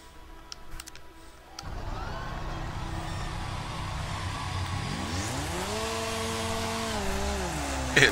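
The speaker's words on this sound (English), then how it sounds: "try them with lawnmowers" In the Wreckfest racing game, a lawnmower-class car's small engine kicks in and hums steadily, then revs up with rising and falling whine, loud and close with no voices.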